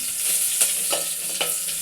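Tomato and tamarind juice hits a hot tempering of garlic, dry red chillies, curry leaves and mustard seeds for rasam, giving a close, bright sizzle and crackle with a few sharper spits and no talking.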